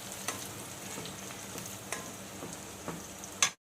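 Curry leaves and green chillies sizzle in hot oil in a pan while chicken fry is being cooked, with a faint continuous crackle broken by a few soft stirring clicks.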